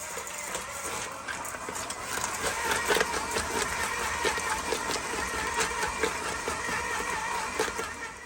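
An electric mixer beating peppermint pie filling with peppermint pieces, a steady close mechanical whir with a rattling, gear-like texture that runs unbroken throughout.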